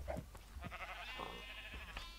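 Sheep bleating in Minecraft, a few short wavering calls from the game's flock of farm animals, moderately close over a steady low background hum.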